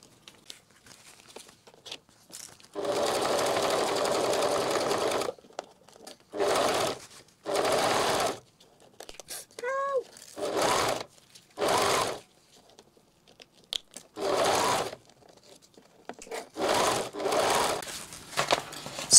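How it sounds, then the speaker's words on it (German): A Pfaff sewing machine stitches fabric for a zippered welt pocket on a handbag, running in several separate bursts of a few seconds each with quiet gaps between, plus a short squeaky whir partway through. "Bei der Pfaffmaschine ist das ganz einfach zu machen. Und jetzt lege ich das hier einfach runter und nähe das an."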